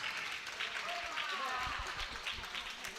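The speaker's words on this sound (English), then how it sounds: "Polite golf clapping from the fans is being heard again." Scattered, polite clapping from spectators at a volleyball match between the Leopards and Waltham Forest, steady and moderately distant across the whole stretch, with a commentator's voice running over it.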